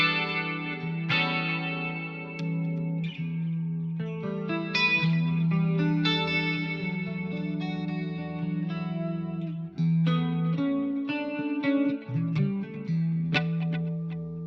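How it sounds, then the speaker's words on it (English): An electric guitar through a Fractal modeler plays a clean tone with a long delay, each picked note and chord trailing off in repeating echoes over a sustained melodic line. "so I've got this clean long delay"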